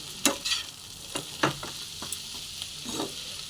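Sattu (gram flour) dry-fries in a hot pan, giving a soft, steady sizzle broken by several sharp scraping strokes as it is stirred.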